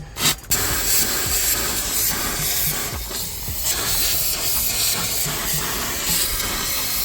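Steady loud hiss of a steam cleaner spraying hot steam nonstop for several seconds on a dirty car, broadband and close, with faint clatter underneath and no talking.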